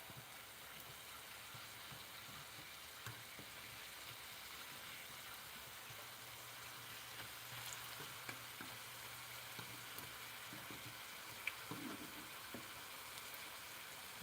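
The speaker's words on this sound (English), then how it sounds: "And now I'm frying plantains." Ripe sweet plantains fry in hot oil with a steady, quiet sizzle and crackle, spattering faintly throughout with occasional small pops and stirring sounds.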